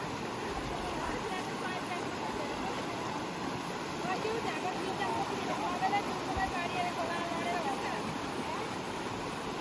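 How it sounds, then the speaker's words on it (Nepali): Shallow river water from the Pisti river rushes and splashes steadily as a group of people wades across during rice-planting season, with voices talking in the background throughout. "पिस्ती खोला तर्दै।"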